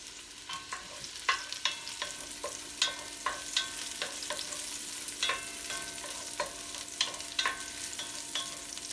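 Dried chorizo frying in a pan gives a steady close sizzle, broken by regular scraping and clinking as a utensil stirs and turns the pieces every second or so, with no voices.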